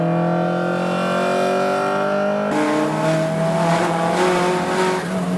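Race car accelerating hard, its engine note climbing through the revs, then a gear change and continued pulling under heavy wheel spin, loud and up close.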